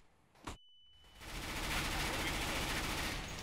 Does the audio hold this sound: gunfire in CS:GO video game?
yes